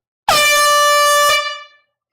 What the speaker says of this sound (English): It's air horn time.